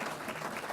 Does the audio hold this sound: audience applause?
yes